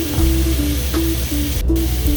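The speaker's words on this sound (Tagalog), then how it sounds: "ginisa sa sarili niyang mantika" Pork sautéing in its own rendered fat in a pan, a steady close sizzle with a low rumble and faint stirring clinks, continuous and fairly loud with no talking.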